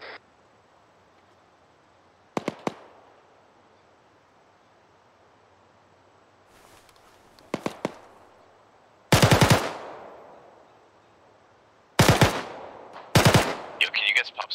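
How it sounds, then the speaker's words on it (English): Gunfire in the ArmA 3 military shooter game: scattered short bursts of automatic fire separated by quiet stretches, with the later bursts louder and closer, cracking in quick runs. "I'm taking shots from all sides right now."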